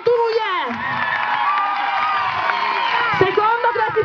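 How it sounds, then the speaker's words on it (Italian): Lively crowd at the human-horse race of the 2011 Palio di Villareggia cheering and whooping for the winning district, excited shouts and voices dominating with some clapping mixed in, loud and close throughout. "Ragazzi, facciamo un applauso al cantone vincitore"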